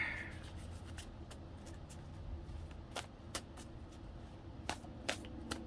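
Tarot cards being shuffled by hand, soft intermittent riffling and snapping clicks, fairly quiet and close, with no talking.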